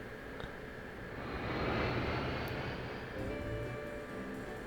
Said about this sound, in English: I'm just hearing constant airplane sounds in this game